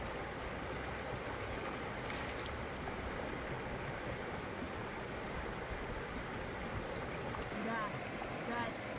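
A churning, foaming mountain river rushes steadily and fairly faint, a continuous broadband wash of water with no break and no talking.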